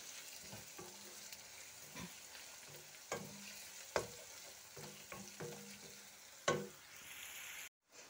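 Duck meat fries in hot oil with a constant soft sizzle, while a utensil stirs and scrapes the pan in repeated irregular knocks, fairly quiet and close.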